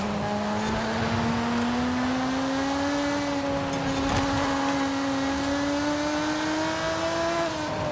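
A stock road car engine in Forza Horizon 5 hums at constant speed with a smooth, sustained drone and slight pitch drift, loud and continuous throughout, no voices.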